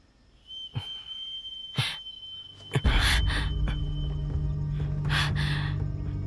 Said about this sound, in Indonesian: peluit rubah pasir. Benar. Ini peringatan khusus pasukan perbatasan.